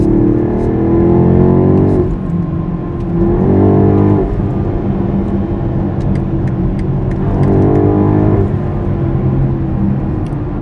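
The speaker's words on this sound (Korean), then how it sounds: "지금 이 시멘트길 소리를 이 엔진 사운드가 다 묻어버립니다" A BMW X6 M50i driving on a concrete road, its engine and exhaust giving a loud, steady drone that swells twice into rising revs, with no one talking.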